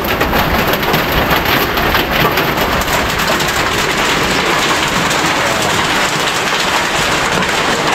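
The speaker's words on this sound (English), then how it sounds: "Yeah, it's raining with storms." Steady heavy rain in a storm roars evenly and loudly throughout, with no voices.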